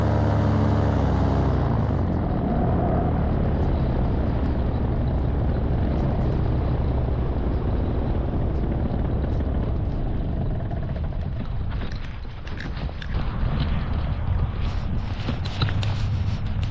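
A paramotor comes in to land, its propeller engine droning steadily and loudly amid heavy wind rush, with the engine note changing and turning choppier near the end.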